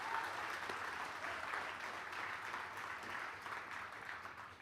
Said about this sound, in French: On peut déjà applaudir les baptisés.